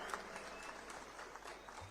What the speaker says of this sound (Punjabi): ਜ਼ੋਰਦਾਰ ਤਾੜੀਆਂ ਦੇ ਨਾਲ ਇਹਨਾਂ ਦਾ ਸਵਾਗਤ ਹੋਣਾ ਚਾਹੀਦਾ ਇਹਨਾਂ ਲੀਡਰਸ ਦਾ